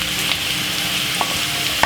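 Two medium carrots and two medium white onions sizzle steadily in a hot frying pan, a continuous close hiss with a few light stirring scrapes and clicks.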